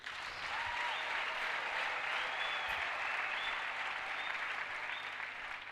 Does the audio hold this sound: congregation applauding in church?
yes